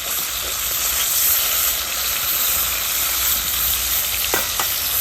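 Pieces of fish sizzle loudly and steadily in a hot pan, a dense, even crackle of frying oil with occasional brief spits and no talk.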